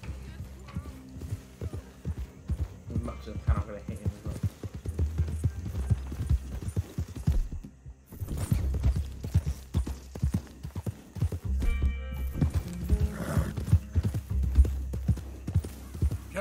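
Horse hooves clip-clopping at a gallop in Red Dead Redemption 2, a rapid irregular thudding rhythm under game music and a voice talking, with a brief pause midway.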